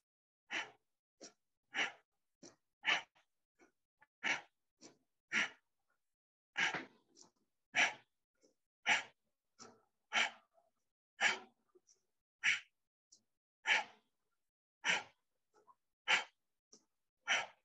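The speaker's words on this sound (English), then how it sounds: "So it might become a little bit of a rapid fire breath." Rapid-fire yoga breathing: a long, steady series of sharp, forceful exhales through the nose, each a short puff, some weaker breaths between them, close and clear with no speech.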